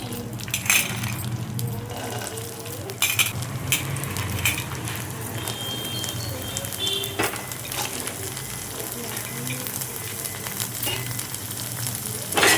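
Corn kernels fry in oil in a kadai, a steady close sizzle broken by scattered clinks and scrapes of a stirring spoon, with a voice faintly speaking at moments.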